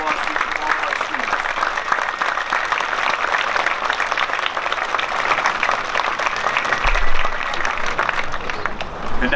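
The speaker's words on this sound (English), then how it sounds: "We have a lot of applause from all of our students." Sustained applause from students at a high school graduation, dense steady clapping filling the room for several seconds.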